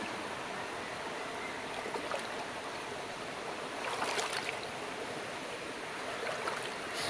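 Steady rush of a forest stream over slippery stones, with a few louder splashing bursts midway as someone wades through, close by.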